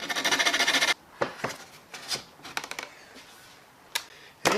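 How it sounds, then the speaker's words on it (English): Sandpaper rubbed against a wooden part for a homemade collapsible gallows: a fast run of rhythmic scratchy strokes at first, then scattered short rasps and taps, close and fairly loud. "just some sandpaper ought to get the job done"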